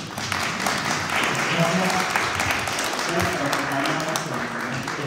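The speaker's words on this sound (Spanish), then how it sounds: "denle un fuerte aplauso" Audience applause fills a lecture hall at an astronomy talk at a university museum, steady moderate clapping throughout with a murmur of voices and a speaking voice underneath.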